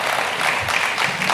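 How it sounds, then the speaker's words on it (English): Audience applause at an annual lecture fills a hall with a dense, steady roar of many hands clapping, loud and continuous throughout with no distinct individual claps. "I'd like you to give yourselves a round of applause"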